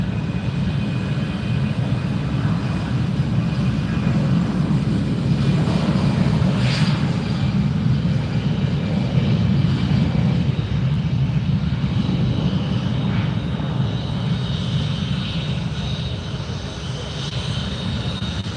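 JetBlue jet airliner at Fort Lauderdale airport, a loud continuous engine roar sustained for many seconds, heard from some distance and gradually easing toward the end.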